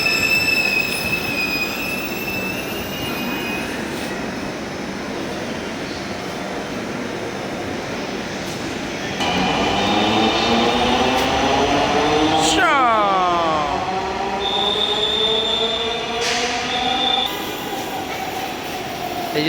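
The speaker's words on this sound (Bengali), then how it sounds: "এই যে ট্রেন চলে আসছে" A metro train pulls into a station, its wheels squealing in rising, curving screeches over a steady rumble, with a loud hiss near the end and people talking nearby.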